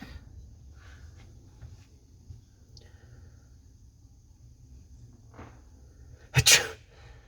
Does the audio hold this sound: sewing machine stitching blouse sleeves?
no